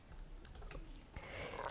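A Discord invite link being typed on a computer keyboard, heard as a few quiet, scattered key clicks close by with no talk.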